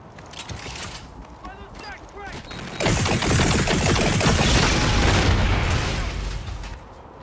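Dense bursts of rapid gunfire in a Call of Duty: Infinite Warfare multiplayer match, growing into a loud sustained barrage partway through, with game voices and chatter over it.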